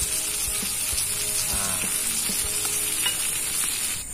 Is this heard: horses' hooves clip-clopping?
no